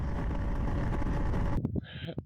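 Wind buffets the microphone in a constant low roar at dusk in Nova Scotia, then drops away abruptly near the end, leaving brief quieter noises.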